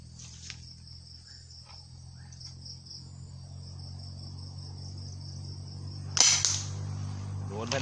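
A single sharp shot from a pump-action 16 mm shotgun fired at a target lands near the end, loud and abrupt against a steady background of outdoor insect chirping.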